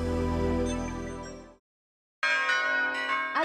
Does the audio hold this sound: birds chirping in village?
no